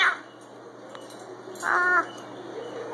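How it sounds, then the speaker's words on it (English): A pet cockatoo with a big frill gives a brief harsh squawk at the start and a louder raspy call near the middle, set against a quiet indoor background. "You're such a cute bird with your big frill."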